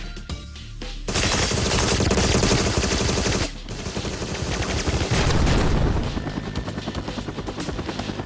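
Rapid automatic fire from the Klobb, a notoriously inaccurate gun in the video game Agent 64, roars in loud sustained bursts, briefly cutting out partway through before resuming heavily.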